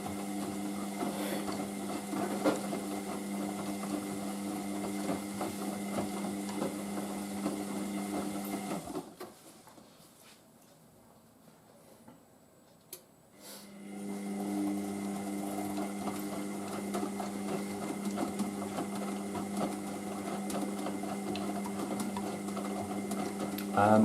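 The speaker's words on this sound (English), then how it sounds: "now we're doing the regular cotton tumbles and heating." A Hotpoint washer dryer drum tumbling a load of cottons while heating makes a steady mechanical whir and rumble. It stops for a few seconds of near quiet, then resumes at full level, with a voice speaking over it.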